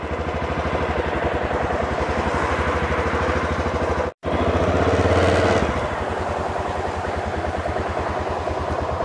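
A motorcycle engine idles close by with a steady, throbbing putter, briefly cutting out for a moment before resuming and settling back to an even rumble.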